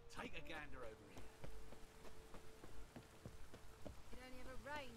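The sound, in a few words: rain falling, from the video game The Witcher 3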